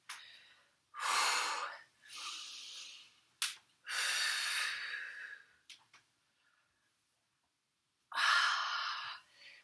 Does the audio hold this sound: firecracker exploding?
no